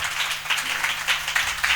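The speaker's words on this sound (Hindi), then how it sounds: "ताली बजाओ यार, हालेलुया" Church congregation at a Hindi-language sermon clapping together, a dense, steady patter of many hands at moderate distance with no clear pauses.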